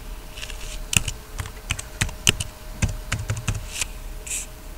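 Rapid keystrokes on a computer keyboard while a password is entered, a close, irregular burst of roughly a dozen sharp clicks with brief pauses, heard alone with no talking.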